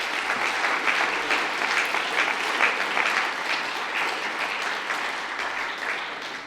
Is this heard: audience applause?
yes